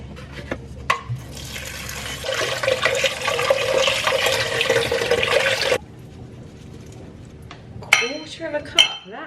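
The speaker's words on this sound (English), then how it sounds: "I'm gonna give these a wash" Running water gushes steadily over freshly picked blackberries being washed at a kitchen sink, a loud continuous rush that cuts off abruptly, followed by a few clinks of a bowl or dish.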